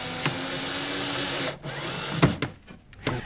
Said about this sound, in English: We can now glue and fix the upstand by drilling and screwing at 45 degrees.